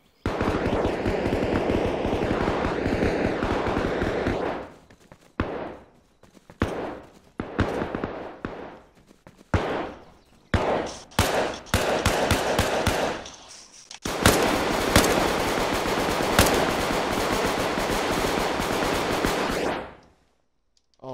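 Gunfire at a shooting range in the video game Arma Reforger during basic training: loud single rifle shots and short bursts cracking out, then a sustained rapid automatic volley that stops abruptly, with brief gaps between shots.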